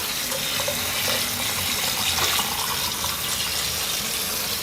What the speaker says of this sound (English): Now, I am just rinsing my beans.